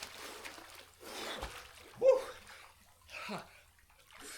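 A person wearing a DJI Osmo Action 5 Pro action camera jumps into a cold swimming pool, giving a few loud, close bursts of splashing and churning water spread over a few seconds.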